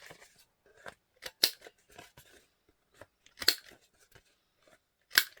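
Scissors snip through paper while rounding the corners of a collage piece, a scattering of crisp cuts with sharp bursts about every two seconds, close and quiet against a silent background.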